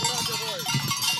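Goats bleat in a few wavering calls on a mountain hiking trail in Gran Paradiso, Italy, with bells clanking and people talking nearby.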